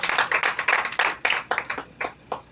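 Audience clapping for their leaders at a national media launch, loud close-up claps in irregular bursts that swell and fade over a couple of seconds, with no voices over them.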